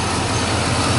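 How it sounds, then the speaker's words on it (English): A 2004 Cadillac Escalade AWD's Vortec 6.0-liter V8 idles with the hood open, a loud, steady, close engine rumble with no breaks. "Vortec 6-liter engine."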